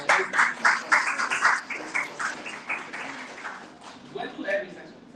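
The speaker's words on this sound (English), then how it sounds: "everyone can give them a applause" Audience at a startup village pitching event claps for session attendees, a scattered patter of handclaps that swells briefly then thins out, with speech mixed in.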